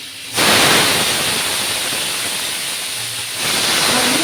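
Potato pieces drop into hot oil in a pan, cooked for a cauliflower korma, and a loud, steady sizzling hiss bursts in right away and carries on close up with no talking.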